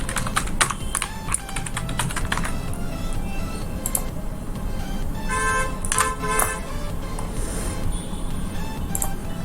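Fingers tap out a PAN card number on a computer keyboard in quick clusters of clicks with short pauses between them, moderately close. Faint traffic and a distant horn sit beneath the keystrokes.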